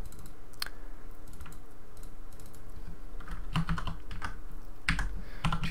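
Keys clack on a computer keyboard, with arrow keys pressed in scattered bursts and single taps over low room hum, close by and fairly quiet, without speech.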